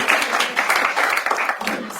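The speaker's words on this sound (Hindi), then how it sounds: "एक बार वैभव के लिए जोरदार तालियां." A studio audience at a comedy game show claps and cheers for a contestant, a short loud burst of mixed applause with excited voices mixed in.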